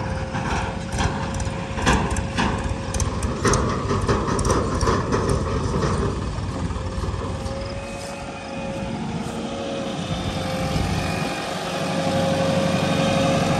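The diesel engine of a JCB 3DX Xpert backhoe loader runs steadily at a work site, with a low continuous rumble, rhythmic knocking and clattering, and a thin whine rising near the end, heard nearby with no speech.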